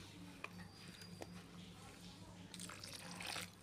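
Water trickles and then pours into a bowl of palm fruit fritter batter, faint small drips followed by a short, fuller splashing pour near the end.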